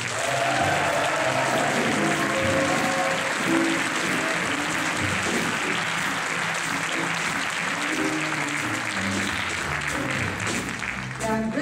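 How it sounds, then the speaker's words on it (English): A concert audience claps loudly and steadily for a singer, with dense applause holding for several seconds and fading only slightly at the end. "please give her a great Chicago round of applause"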